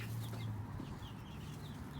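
Chickens on a farm clucking softly in a quiet coop, several faint scattered clucks over a low steady background hum, no voices.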